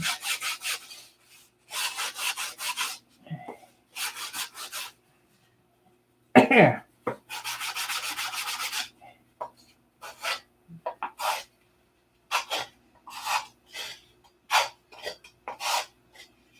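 A small sanding block shaping wood on a model build: repeated rhythmic rasping strokes in separate bursts, close and clear, with someone speaking briefly between some of them.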